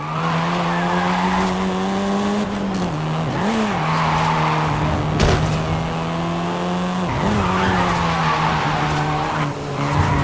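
A seventh-generation Volkswagen Golf R in Forza Horizon 5, its engine droning loud and steady with brief pitch dips at gear shifts, mixed with the screech of skidding tires.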